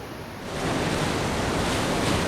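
Loud, steady roar of whitewater rapids on the South Fork Salmon River in the Idaho wilderness, a dense broadband rush that swells after the first half-second and holds close and constant, with no voices.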